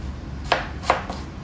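Food being chopped with a knife during grape drink preparation, three crisp, evenly spaced blade strikes against a board, close and clear over a quiet room.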